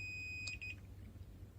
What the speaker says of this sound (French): Après avoir activé le bip sur le multimètre, puis l'avoir placé en mode ohmmètre, vous contrôlez la continuité entre